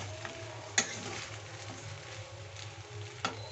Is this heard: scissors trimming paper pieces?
no